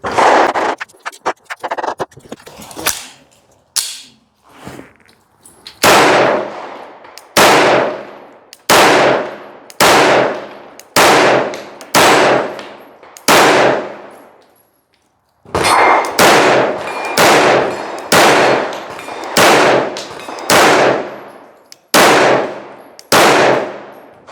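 Aguila 9mm pistol rounds fired at steel targets, a loud string of sharp individual shots, each with a ringing metallic clang, at a steady pace with one brief pause midway.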